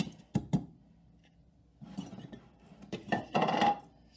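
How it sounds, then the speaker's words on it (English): Hard clinks and clatter as a grinder bowl is lifted off and spinach powder is tipped into a jar; a few sharp knocks, a pause, then a burst of rattling and scraping at close range. "I'm able to take the bowl off and then just put it in the jar"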